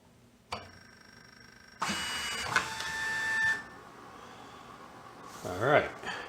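A repaired IBM 4400 printer clicks on and whirs in short mechanical bursts. A sustained tonal hum sits under them, and a brief rattling movement comes near the end, close and moderately quiet.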